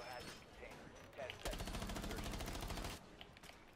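Rapid gunfire from the video game Rainbow Six Siege, a sustained burst of automatic shots lasting about a second and a half, heard mid-match under and between players talking.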